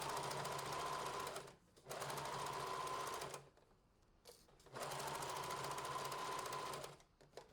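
A sewing machine stitches the side seams of a fabric wrap dress with a steady whirring hum, running in two long bursts separated by a short pause, close and clear with no talking.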